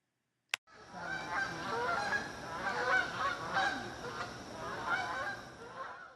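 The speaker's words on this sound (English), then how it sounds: "And there would be a bunch of Canada geese on the river. And here they are flying over." Canada geese honking as a flock passes overhead above a river, many overlapping calls rising and fading, after a brief sharp click at the start.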